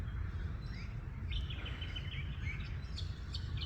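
Birds chirp in short high tweets and quick trills, faint and somewhat distant over a low steady outdoor rumble, near ducks feeding in grass.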